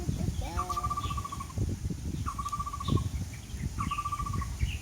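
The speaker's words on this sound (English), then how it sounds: "We have a happy bird." A bird near a lake with choppy water and strong wind gives three repeated rapid trilled calls, evenly spaced, over wind and water noise.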